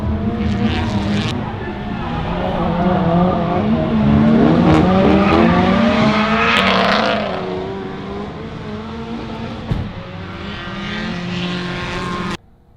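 An old BMW 7 Series E38 740iL without a limited-slip differential spins donuts, its engine revving hard while the tires squeal and skid continuously, rising to a loud peak mid-way before easing off and cutting out abruptly.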